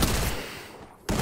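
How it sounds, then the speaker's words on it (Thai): Dense, loud gunfire from the Free Fire battle royale game rattles almost continuously, briefly thinning out before a sharp burst returns at the end. "โอ้โหมันยิงกันปากตาย"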